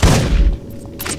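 A gunshot in Deus Ex: Invisible War fired from the stairs, heard as a loud, close blast at the start that decays quickly, followed by a faint second report.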